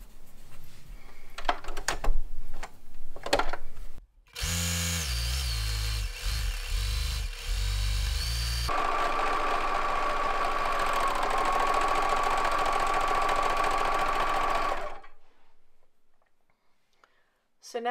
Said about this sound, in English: I'm going to serge right along the edge and not trim off any fabric.